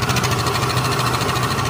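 An overhauled Yamaha Mio MXi 125 scooter engine idles close by, a steady, even mechanical hum with a faint rapid pulse and no voices.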